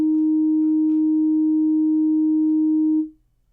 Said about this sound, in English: I made it a sine wave